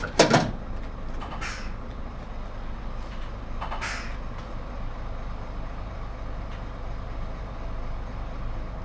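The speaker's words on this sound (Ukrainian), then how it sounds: "Це відбувається саме діагностика гальмівної системи" A truck's air brake system hisses in short sharp bursts during its self-diagnosis, two loud pneumatic releases with faint clicks, over a steady low engine idle.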